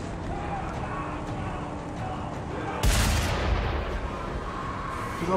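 A dense wash of Mad Max game noise with rattling gunfire, and a sudden loud blast or shot bursting in midway before settling back into the din.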